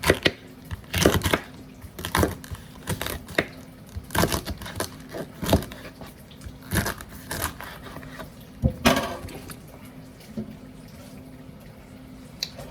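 Knife chopping the green part of a cabbage on a cutting board, a series of close, crisp crunchy cuts in uneven rhythm, with a few pauses and no talking.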